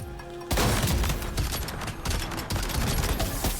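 Machine pistol gunfire in Death Stranding 2 rattles out in loud, dense automatic bursts. After a brief quieter lead-in it continues nearly without a break to the end, with no voice over it.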